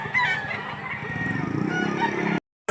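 White hatch chickens at the Lipa auction market cluck and crow continuously, close and loud, with no talking, before a brief drop to silence near the end.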